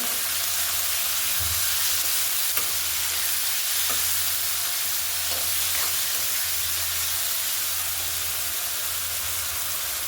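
Onion and tomato fry in a pan for a curry, a steady close sizzle and hiss with a few faint stirring scrapes and taps, no voices.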